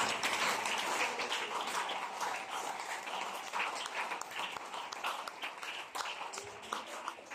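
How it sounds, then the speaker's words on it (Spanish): Church congregation applauding during a Spanish-language worship service: a steady, moderately distant wash of many hands clapping that continues evenly throughout, with no talk over it. "Den un aplauso al Señor Jesús."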